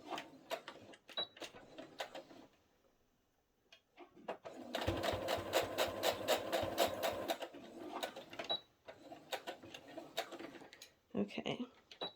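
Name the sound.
sewing machine stitching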